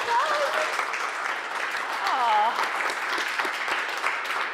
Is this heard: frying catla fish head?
no